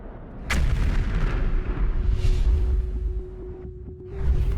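A sudden heavy boom from an explosion at the Tuapse port in Russia bursts out, then a deep rolling rumble lingers with a steady tone droning beneath it.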